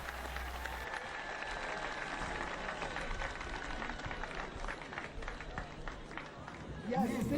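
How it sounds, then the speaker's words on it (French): A church congregation applauding and cheering, steady dense clapping from a large crowd with scattered shouts, filling the room evenly throughout, with a voice speaking over it. "Acclamez-le très fort."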